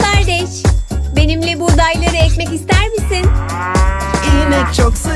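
A cow moos loudly and close, with long, drawn-out lowing calls repeating in succession and no other sounds around them.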